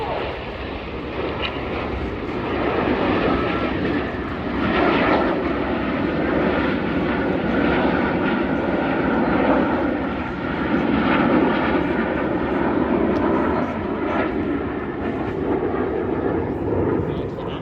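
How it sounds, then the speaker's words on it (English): Seven display aircraft fly a formation barrel roll at the Oshkosh airshow, their engines a loud continuous roar that swells and fades slightly as they pass, with a commentator talking over it. "They're now going to barrel roll all 7 aircraft with the colour coming on through the vertical."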